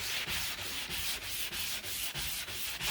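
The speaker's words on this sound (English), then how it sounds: "I am going to use a 120 grit sanding block" Steady back-and-forth strokes of a 120-grit sanding block on a Gottlieb pinball cabinet leg, about three per second, a rough scratchy rasp repeating evenly and close by with no voices.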